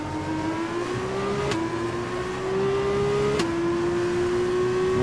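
Formula 2 race car in F1 2021 on the British Grand Prix circuit, engine droning steadily at high revs with two sharp upshift clicks and a rising pitch in between, loud and close with no talk.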